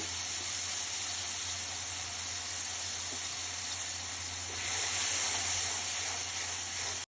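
Spices fry in a pan for a boal fish and olive sour curry with potatoes, giving a continuous close sizzling hiss that swells slightly partway through.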